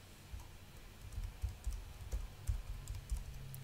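Quiet, steady typing on a computer keyboard, with soft irregular keystrokes and clicks close to the microphone and no speech.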